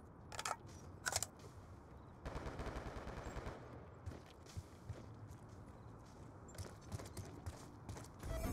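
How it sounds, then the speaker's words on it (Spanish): Gunfire in the Call of Duty Black Ops II video game, with a few sharp distant shots and short bursts scattered among footstep-like thuds and background noise, and nobody talking. "Disparo efectuado."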